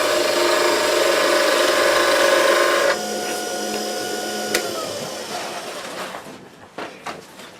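Woodturning gouge cuts a spinning workpiece on a lathe, a loud continuous whirring scrape that drops in intensity partway through and tapers off as the cut eases.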